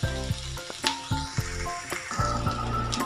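Onions frying in a pan for bitter gourd gojju, a steady close sizzle with bursts of crackle and a few stirring scrapes, with no voices.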